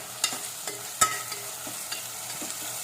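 Curry fries with a continuous sizzle in a pressure cooker while a spoon stirs it, adding soft periodic scrapes and knocks close by, with no voices.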